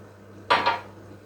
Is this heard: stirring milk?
yes